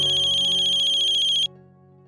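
A phone ringtone rings in a home, a bright pulsing electronic tone that plays loud and close for about a second and a half, then cuts off, leaving a low background hum.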